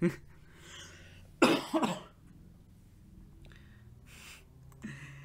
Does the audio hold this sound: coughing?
yes